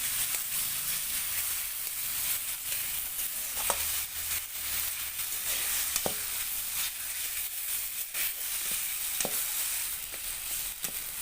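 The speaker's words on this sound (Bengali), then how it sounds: "পোড়া আলু বেগুন যেটা আমি মাখিয়ে রেখেছিলাম সেটা এর মধ্যে দিয়ে দেবো, দিয়ে ভালো করে এর সাথে মিশিয়ে দেবো" Mashed roasted potato and eggplant being stirred into a hot pan, a steady close sizzle and hiss throughout with scattered sharp scraping clicks from the spoon against the pan.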